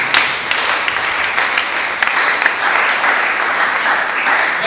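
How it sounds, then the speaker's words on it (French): A church congregation bursts into loud, sustained applause and cheering in praise of Jesus, a dense wash of many clapping hands that carries on steadily throughout. "Acclame très fort pour la gloire de Jésus"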